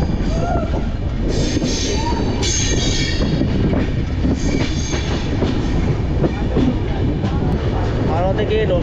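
A passenger train pulls into Kamakhya Junction after a long run from Howrah, its steady rumble and rolling wheel noise loud and close throughout, with brief squealing wheels and faint background voices.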